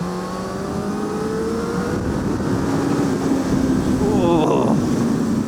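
A 2021 Honda CB1000R Black Edition motorcycle engine revs loud and bassy, its pitch climbing steadily, then a sharp burst of higher revs near the end, heard close while riding.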